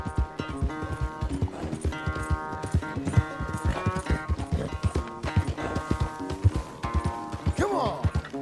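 Horse hooves clip-clopping steadily with occasional neighs from a horse in Red Dead Redemption 2, set over a busy game music bed with a voice talking at times.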